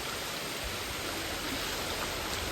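A fast-flowing stream swollen after rain, where crab traps are being set, gives a steady, even rush of water that fills the whole moment without voices.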